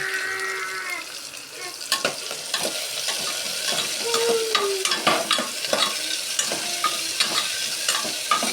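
Curry leaves sizzle in hot oil for khichdi, a steady frying crackle with bursts of popping and spoon-stirring clatter throughout, moderately loud with no talk.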